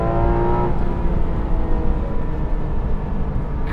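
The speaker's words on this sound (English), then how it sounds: "this is that legendary Porsche GT department car" Porsche 911 GT sports car at a track day, engine revving hard and accelerating with a loud, steady mechanical roar close by.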